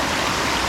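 Waterfall at Kovai Kutralam running at low flow, a steady loud broadband rush of falling water heard up close, unbroken throughout the short moment.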